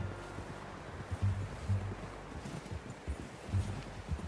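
Horse hooves clip-clop at an unhurried walk in Red Dead Redemption 2, soft and fairly distant, with irregular muffled thuds over a steady windy outdoor hush.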